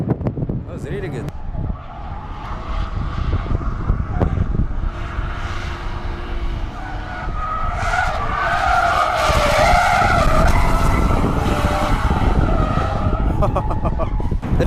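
Cars drifting at Dubai Autodrome, likely Nissan 350Zs and Infiniti G35s, with tires screeching and skidding over loud, continuous engine roar that swells toward the middle; a distant voice is faintly audible.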